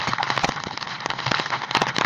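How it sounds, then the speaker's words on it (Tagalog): Heavy rain during a typhoon, drumming in dense, crackling bursts close by with steady patters throughout. "malakas na ulan"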